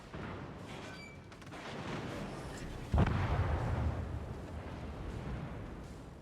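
Naval artillery fires in a warship video game with German carriers, a soft rumbling backdrop broken by one sharp, heavy boom that decays into a rolling roar, fairly faint overall.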